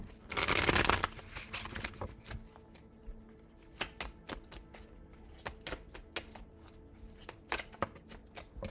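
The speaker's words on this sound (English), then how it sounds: "shuffle" Tarot cards shuffled by hand: one loud riffle burst at the start, then a run of quick, crisp card taps and flicks close up, with no talking.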